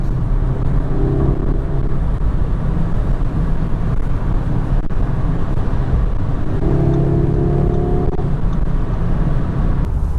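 A 2020 Audi S3 Sportback 8Y with the 2.0 TFSI 310 hp engine accelerates on the road, giving a loud, steady cabin drone with wind and road roar and two brief rises in engine tone.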